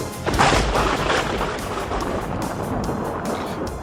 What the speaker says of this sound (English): just as you're hearing the thunder on our show, it's thundering over my house right now